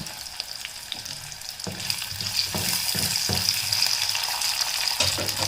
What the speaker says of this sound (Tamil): இப்போ வந்து சின்ன வெங்காயம் போட்டுக்கலாம். அப்புறம் கருவேப்பிலை,